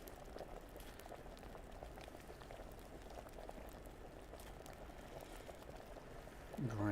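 Alchemy liquid bubbles at a steady rolling boil in a Kingdom Come Deliverance game, a continuous dense burble, with a voice briefly entering at the very end.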